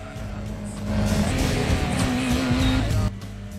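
Super Tourer race car in Gran Turismo 2 cornering, its engine note swelling and holding loud before dropping off, continuous and close without talk.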